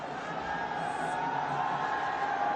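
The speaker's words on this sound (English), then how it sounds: "They've been cheering" Stadium crowd at a night cricket match between Desert Vipers and MI Emirates, a steady roar of cheering filling the whole stretch at even loudness with no clear breaks.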